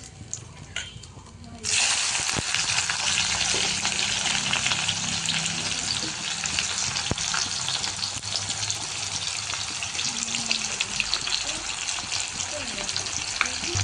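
Onions dropped into hot oil with fried dried red chilies: after a quiet start, a loud sudden sizzle bursts in and holds as a steady close frying hiss with faint clinks of stirring.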